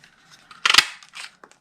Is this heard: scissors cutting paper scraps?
yes